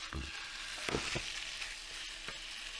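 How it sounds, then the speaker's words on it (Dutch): Meat and red onion frying in a pan, a continuous sizzle with a few louder scraping bursts as the pieces are stirred, with no talking. "We gaan ze bakken totdat ze bijna garen zijn."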